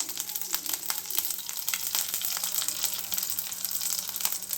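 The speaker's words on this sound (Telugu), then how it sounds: "ఆయిల్ వేడెక్కాక కొంచెం తాలింపు గింజలు," Tempering seeds and curry leaves sizzle and crackle in hot oil in a pan, a continuous close fry with scattered sharp pops throughout.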